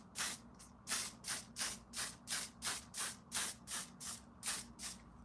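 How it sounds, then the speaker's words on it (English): A hairspray-like makeup setting spray is misted in a rapid series of about a dozen short, close hissing bursts, evenly spaced and fairly quiet. "This is really like hairspray,"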